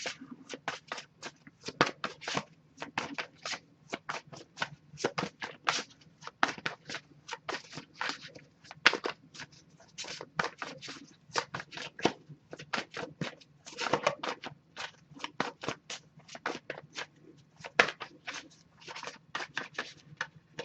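A deck of oracle cards is shuffled by hand in a long, continuous run of quick papery flicks and riffles, fairly close and steady, with no talking.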